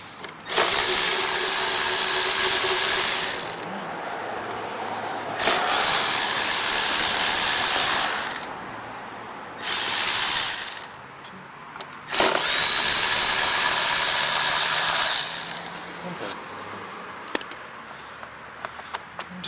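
Tool work on a Honda SRM215 trimmer while removing the 10mm carburetor nuts and bolt produces several loud, hissing, whirring bursts lasting a few seconds each, separated by quieter gaps with light clicks and handling noise.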